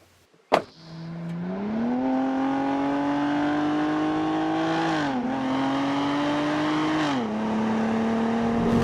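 A Cadillac ATS's GM V6 accelerates hard after a sharp start, its engine note rising steadily through the gears with two brief dips at the shifts, loud and close from inside the car.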